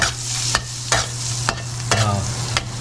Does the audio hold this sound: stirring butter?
yes